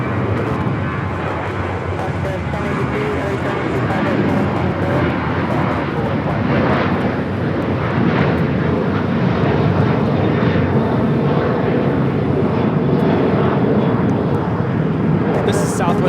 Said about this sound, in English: This is Southwest Airlines 4664 taking off to Las Vegas on the 737-800.